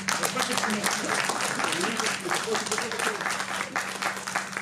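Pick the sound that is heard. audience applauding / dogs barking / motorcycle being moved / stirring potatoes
audience applauding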